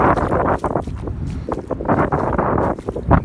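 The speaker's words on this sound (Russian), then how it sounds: "Почти неделю дует восточный, юго-восточный ветер" A strong east-southeast wind blows across the shore of a shallow estuary at Yeysk, roaring and buffeting the microphone in uneven gusts with no voices.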